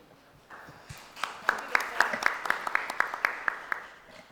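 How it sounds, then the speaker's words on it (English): An audience applauds a doctor at a medical conference on cervical cancer, the clapping building from scattered claps into a steady round with distinct individual slaps standing out near the microphone. "Dr. Bhushan deserves a big round of applause from the audience"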